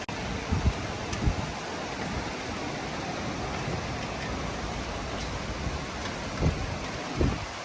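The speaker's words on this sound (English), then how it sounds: "Rain's coming down hard on South Padre Island." Heavy rain pours steadily on South Padre Island, a dense broadband hiss of drops on surfaces, with a few dull thumps now and then.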